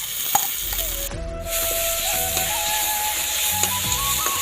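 Onion, chili and ginger-garlic paste frying in a pan after potatoes, a loud continuous sizzle that swells as the ingredients drop in, with occasional stirring scrapes and a thin whistling tone, no talking.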